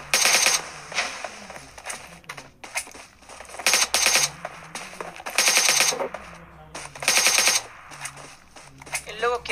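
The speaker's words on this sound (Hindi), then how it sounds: "सारी गोलियां लग रही हैं बंदे को" Rapid bursts of automatic gunfire in PUBG Mobile, repeated in several volleys with short gaps, with a voice talking underneath.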